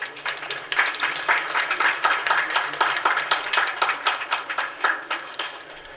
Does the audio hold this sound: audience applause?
yes